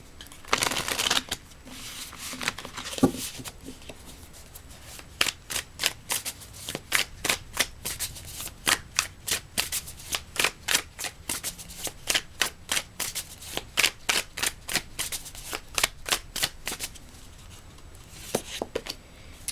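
Tarot cards being shuffled by hand, a long run of quick, crisp riffling snaps in a steady rhythm, close and clear with no talking.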